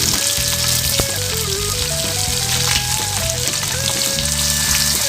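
Ten to fifteen small shallots frying in hot coconut oil for mutton pallipalayam, a loud, steady, close sizzling crackle with a continuous hiss and no voices.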